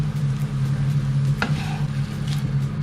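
Dried beef for Nilambur-style idi irachi is stirred in a frying pan, with a steady close sizzle and a brief scrape of the stirring spoon midway.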